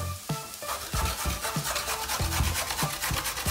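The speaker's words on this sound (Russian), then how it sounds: "Трем сырую на терке." Raw beetroot rubbed over a kitchen grater makes a close, rapid rasping scrape in quick back-and-forth strokes, loud and continuous with no voices.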